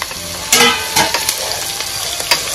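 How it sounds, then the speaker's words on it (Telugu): Chopped carrot and beetroot fry in a pan with a steady sizzle, broken by several louder scraping stirs of a spoon against the pan. "క్యారెట్, బీట్రూట్ మొత్తం వేసేసాము. ఇవి బాగా ఫ్రై చేసుకోవాలి."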